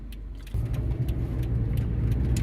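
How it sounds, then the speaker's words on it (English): Toyota RAV4 with a noisy wheel bearing, a steady low rumbling drone from the moving vehicle that grows louder after a brief start, with faint rattling on top. "now the bearing's showing a lot of noise"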